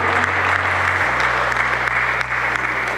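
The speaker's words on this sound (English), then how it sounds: "Let's have a big round of applause," A conference audience at a healthtech and biotech event claps in a dense, steady round of applause, loud and sustained throughout, with a low electrical hum underneath.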